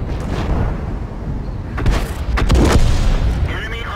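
Artillery shell firing in World of Tanks, a deep boom with a few sharp cracks over steady battle rumble, recurring around the middle and end of the stretch.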